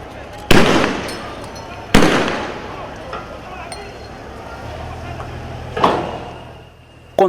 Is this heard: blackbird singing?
no